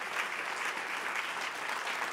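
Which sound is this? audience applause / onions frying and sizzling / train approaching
audience applause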